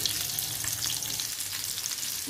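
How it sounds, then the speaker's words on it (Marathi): Karali fish frying in a pan over a medium flame, a bright, steady, close sizzle that crackles evenly from start to finish with no speech. "हे बघा व्यवस्थित अशी मच्छी भाजली जाते।"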